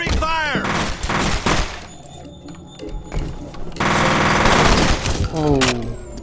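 Rapid automatic gunfire in the shooter game F.E.A.R. Perseus Mandate, loud bursts with dense crackling volleys and a pause in the middle, with someone speaking over parts of it.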